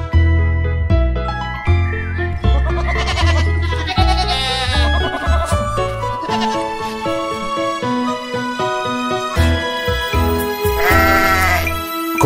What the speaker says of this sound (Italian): La piccola Pip sognando sentì le sue pecorelle belare